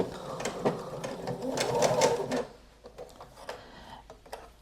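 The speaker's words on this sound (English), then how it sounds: "So I'm going to start sewing." A sewing machine stitches knit fabric in a steady whirring run that stops partway, followed by a few faint clicks and taps nearby.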